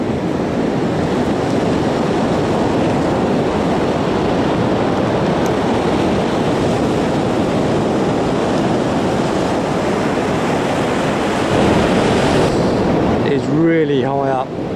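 An onshore breeze gusts across the microphone over rolling surf at Rainbow Beach, a loud continuous roar of wind and waves, with a brief voice near the end.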